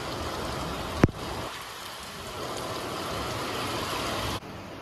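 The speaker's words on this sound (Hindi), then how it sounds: "और बहुत ही ज़्यादा बारिश हो रहा है यार।" Heavy rain pours steadily in a dense, hissing wash, close and loud, with one sharp knock early on and no voices.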